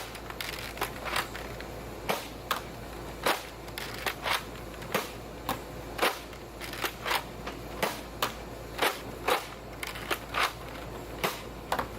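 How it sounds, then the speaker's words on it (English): A Rotofury dart blaster converted into a shotgun is test fired repeatedly, giving a series of sharp, snappy clacks and pops at irregular intervals of about a second, close up with light mechanical shuffling between shots. "let's give this thing a test fire and see how much spread we're getting on these darts on our new shotgun conversion."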